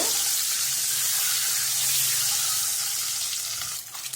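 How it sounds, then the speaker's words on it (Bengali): Eggs coated with turmeric and salt fry in hot oil with a loud, steady sizzle and hiss that eases slightly near the end; nobody speaks. "তো আমি ডিমগুলো একটু হলুদ আর লবণ দিয়ে মেখে নিয়েছি, এখন ভেজে নিব"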